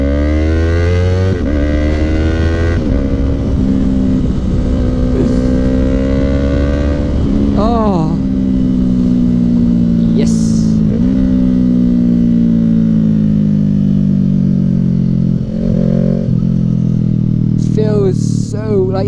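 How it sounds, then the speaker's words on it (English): A car engine revs and drops repeatedly as it is run up and down through the gears, harmonic tones rising and falling with each shift, loud and close, with occasional voices over it. "I love going through the gears. Just downshifting and shit."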